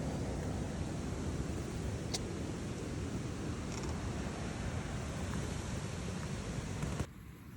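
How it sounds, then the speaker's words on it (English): Strong gusting wind roars steadily against a tent pitched out in hunting country on a warm, dusty afternoon, a dense broadband rush that holds loud and even for about seven seconds before abruptly easing near the end. "The wind's been horrendous."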